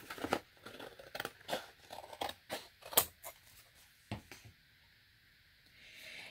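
Scissors snip through a junk journal cover spine in a series of short, crisp cuts and crinkles at close range. The cuts come irregularly and then fall quiet.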